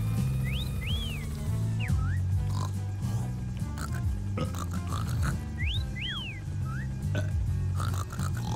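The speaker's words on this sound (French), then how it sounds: "Ah, ça siffle encore." Whistling from the Yooka-Laylee video game: two short bursts of rising and falling whistle tones, one early and one later, over low, steady game background sound.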